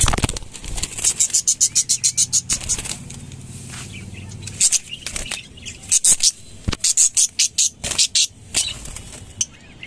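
A young, frightened pet bird flutters with rapid, repeated wing flaps and scrabbling patter in nervous bursts while being caught, close and fairly loud, with a brief pause midway before the fluttering resumes.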